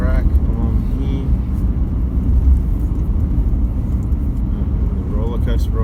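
Vehicle driving along a rough outback dirt track between Innamincka and Tibooburra via Cameron Corner, a steady loud low rumble of engine and tyres with rattling throughout, near and continuous.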